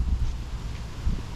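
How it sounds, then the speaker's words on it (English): Wind blows outdoors in Milliken, Colorado, buffeting the microphone with a low rumbling roar in uneven gusts. "it's kind of windy today, so bear with me"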